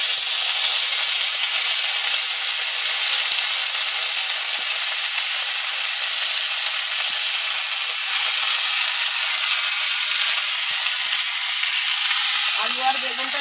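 Potatoes and eggplant sizzle steadily in a hot pan, with a dense, even frying hiss that holds close and loud throughout and a brief stir near the end.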